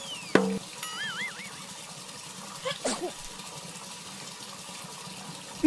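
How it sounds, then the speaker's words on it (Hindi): In a children's cartoon, water pours down from a small rain cloud with soft splashing and trickling, heard under cartoon voices and whistly sound effects. "इस बादल को संभालो जोसे, सब कुछ गीला हो रहा है।"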